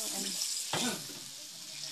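Running water pours and splashes steadily into a cooking pan of sweet and sour food, with a brief louder gush partway through over a faint background hiss.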